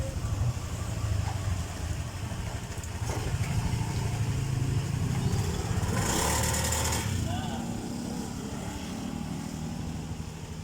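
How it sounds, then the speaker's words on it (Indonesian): A Honda Beat ESP scooter engine with a faulty, non-charging regulator sputters and revs unevenly, hesitating as if starved of fuel, surging louder in the middle before settling back, with faint background noise. "ketika motor ini saya tarik gasnya, ini kadang seperti telat bensin"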